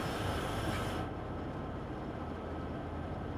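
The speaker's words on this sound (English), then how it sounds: "Look, diesel Vectrons." Diesel Vectron locomotives passing make a steady, heavy rail rumble with broad rushing noise. The bright upper hiss drops away after about a second while the low roar carries on, with no talk.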